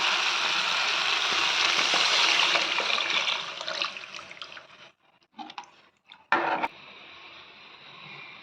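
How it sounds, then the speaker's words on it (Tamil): Tamarind water, dissolved by hand, is poured into a simmering village-style fish curry masala, giving a steady close trickle and splash that thins out and stops, with a few short clinks and sloshes near the end. "புளி கரைச்சி சிறுக்கல்ல மசாலா அதை சேர்த்திக்கலாம்."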